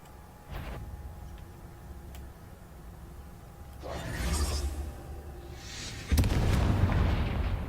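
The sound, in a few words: explosions in a video game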